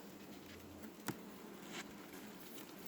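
Honeybees buzz faintly and low inside an opened hive during a frame inspection, a quiet continuous drone with a brief soft tap partway through.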